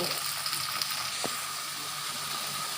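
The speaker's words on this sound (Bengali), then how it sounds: "এবার মশলাগুলো কষিয়ে নেব।" Spices sizzling and being sautéed in hot oil in a pan for a chicken dish, giving a steady close hissing fry with a single sharp scrape partway through.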